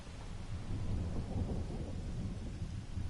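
Storm thunder from the Fortnite battle royale, a steady low rumbling roar with rain-like hiss that swells and holds for a few seconds, fairly loud, with no voices.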